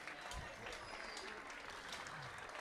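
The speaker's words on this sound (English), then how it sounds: "please give a round of applause to your parents for supporting you in your ventures here and at home" Swimmers applauding their parents at a Caribbean swimming championship ceremony, a faint, distant steady patter of clapping in a large venue, without speech on top.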